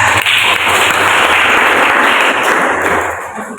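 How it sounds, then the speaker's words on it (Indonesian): An audience claps together in a classroom at an Islamic junior secondary school. The applause is loud and dense, runs steadily, then thins and fades toward the end. "tepuk tangan untuk Afika."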